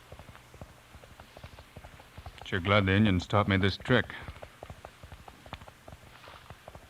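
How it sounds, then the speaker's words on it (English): Galloping horse hoofbeats heard through the ground on a dark trail in an old western radio drama, a quick burst of rhythmic clip-clop thuds under a man's spoken line. "With my ear close to the ground, I can hear his horse running."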